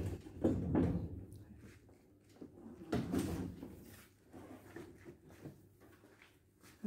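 A heavy storage trolley rolls and slides out from a cabinet with rumbling thumps and clunks, a few louder knocks marking its movement before it settles.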